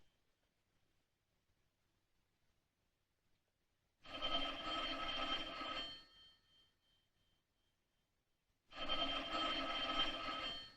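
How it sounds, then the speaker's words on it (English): An old-fashioned telephone bell rings in two long bursts separated by silence, clear and fairly near in a quiet room. "Answer the phone."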